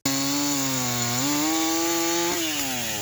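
A chainsaw engine runs loud and steady on its own, its pitch dipping and climbing as the throttle shifts, with a brief stutter near the end.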